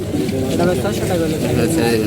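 Giribaz pigeons at the Tongi market cooing in low throbbing bursts beneath loud, close conversation and crowd noise.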